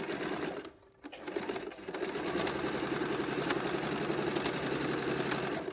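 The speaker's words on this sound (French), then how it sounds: "je vais venir coudre ma sangle avec mon tissu" A sewing machine stitches a strap onto fabric for a gardening apron, running at a steady close-up buzz after a brief pause near the start, then continuing evenly with faint ticks.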